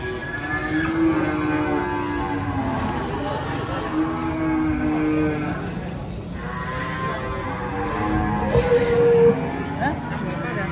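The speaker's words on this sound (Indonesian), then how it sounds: "Sapi bertopeng." A cow wearing a mask lets out several drawn-out, wavering calls, near and fairly loud, spaced across the stretch while people talk and a vehicle hums in the background.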